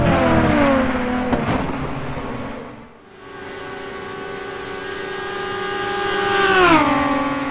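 A 2-litre Maserati race car in a historic race at Longford accelerating hard, engine note rising through the gears with a brief lift between shifts, then fading as it passes.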